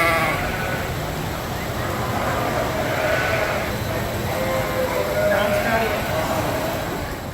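Sheep in a sheep barn at the Iowa State Fair bleat amid a dense, continuous crowd murmur and barn noise, with several drawn-out calls rising faintly above the din.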